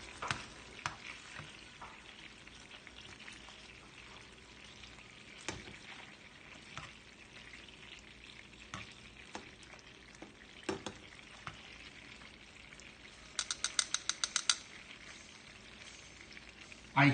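Food, Italian dishes, fries in a pan with a soft, continuous sizzle throughout, broken by occasional sharp clicks and taps of utensils and a short rapid burst of crackles near the end.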